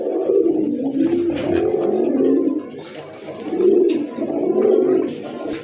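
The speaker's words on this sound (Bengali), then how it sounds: "মাশাআল্লাহ আরেক জোড়া কবুতর দেখতে পাচ্ছেন, মুখী কবুতর।" A pair of mukhi pigeons kept for sale coo in repeated low, rolling phrases, close and fairly loud, with a short pause between calls.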